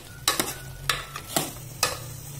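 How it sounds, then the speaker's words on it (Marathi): Kolhapuri chicken cooks in a pan while a spoon stirs it, giving four or five quick scraping strokes over a low sizzle, close up and with no talking. "याला झाकायचं आहे व अधूनमधून झाकण काढून हलवत राहायचं आहे"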